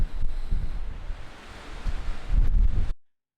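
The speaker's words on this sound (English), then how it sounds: "the wind is gusting up to like 32 miles an hour" Strong wind gusting up to about 32 miles an hour at a campsite near Bandera, Texas, buffets the microphone in loud, rumbling gusts that swell, ease off briefly, then surge again before cutting out.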